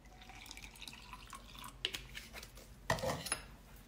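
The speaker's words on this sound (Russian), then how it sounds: "Так, разбавляю водой." Water poured into a glass or cup holding collagen powder, heard as faint trickles and drips over a few seconds, then a sharper splash and clink near the end, close and quiet with no speech.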